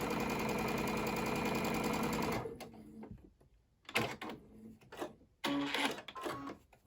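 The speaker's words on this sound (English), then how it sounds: "I am ready to sew right on that dotted line" Sewing machine sewing half square triangle quilt pieces along a marked line, a steady mechanical whir for about two seconds, then it stops and short bursts of handling and clicking follow.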